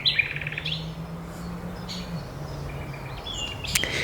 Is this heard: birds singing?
yes